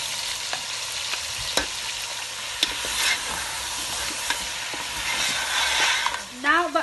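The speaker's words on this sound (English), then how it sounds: "Got 1 cup of oil in there. So I'm just going to add my green chilies with it." Green chilies frying in a cup of hot oil, a steady broadband sizzle with occasional sharp spatters and pops close to the microphone, continuing throughout without talk.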